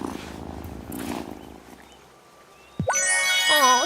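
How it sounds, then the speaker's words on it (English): A cat purring in the farming video game Wylde Flowers, a low steady rumble at first, then a brief silence and a louder melodic passage that takes over toward the end. "Listen to that purr."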